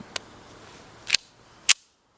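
Three sharp gunshots from a 1943 Japanese Type 94 pistol, spaced about a second apart with the last one the loudest, then a quiet tail.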